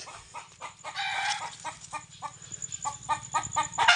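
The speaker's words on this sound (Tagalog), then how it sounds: "maingay yung mga manok" Chickens cluck repeatedly and busily, with a rooster-like call mixed in, fairly close, with no talking.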